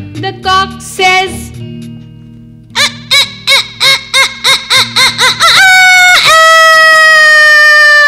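A rooster crows loudly after a run of short, rhythmic clucking calls, ending in one long, drawn-out crow close to the listener.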